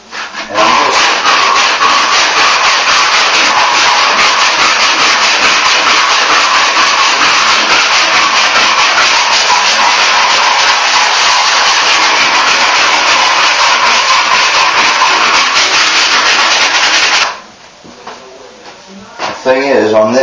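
Steady, continuous rasping of rough flooring sandpaper rubbed by hand over cement in a bathroom remodel, loud and close for about seventeen seconds before stopping abruptly, then a brief resumption.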